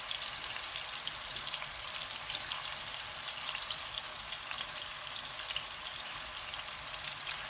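Beef meatballs sear in a pan over medium heat, giving a continuous, even hiss of frying fat with fine crackles, fairly faint and uninterrupted by any voice.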